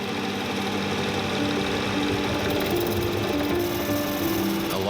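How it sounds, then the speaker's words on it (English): A metal lathe turns a titanium ring blank while a carbide cutter machines it, giving a steady, dense mechanical whir with a hum of motor tones throughout, loud and continuous with no pauses. "I am starting work on a lathe machine. I process the workpiece with a carbide cutter"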